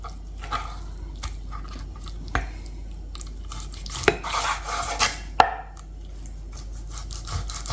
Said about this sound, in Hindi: काट के तो मैं इसमें इसके छोटे छोटे क्यूब्स कर लूँगा।